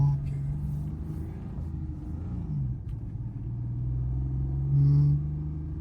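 A Subaru Justy 4WD's engine runs steadily as a low rumbling idle with a mid-range drone, swelling slightly louder near the end; speech is possible faintly underneath.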